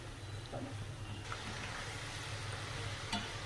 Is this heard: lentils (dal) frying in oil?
yes